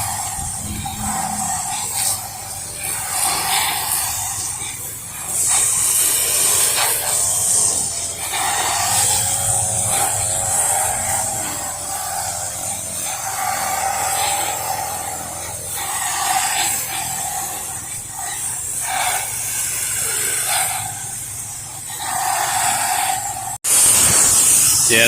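A pressure washer with an X-Jet nozzle rinses a standard 1% house wash mix off white vinyl house siding. The spray hisses steadily and loudly, swelling and easing as the jet moves, and a sharp change comes near the end.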